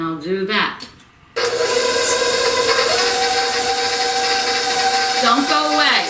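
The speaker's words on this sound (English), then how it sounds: "Now I'm going to raise my mixer, and I'm going to beat the sugar and the butter till they're nice and fluffy" An electric hand mixer starts up and whirs steadily, beating butter and sugar for chewy oatmeal cookies, a constant close buzzing drone that runs alone after a short spoken lead-in.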